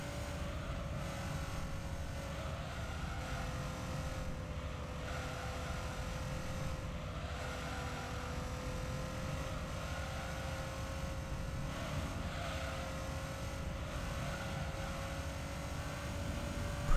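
A car engine in the racing game Gran Turismo 3 holds full throttle, a steady, even drone with a slowly rising tone lasting throughout at moderate loudness.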